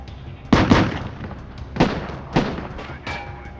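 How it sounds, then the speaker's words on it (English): Gunfire traded between a gunman and an FBI agent: several sharp, loud bangs in irregular bursts, some doubled shots close together, with quieter reports between them and a faint hum underneath. "He swung around and sprayed rounds where Bammel was standing. The agent returned fire."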